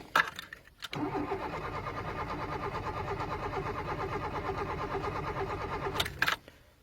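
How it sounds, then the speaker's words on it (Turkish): A Tofaş car's starter cranks steadily for about five seconds without the engine catching, a rhythmic close whirring churn framed by clicks and thumps at the start and end. "Marşa basıyoruz."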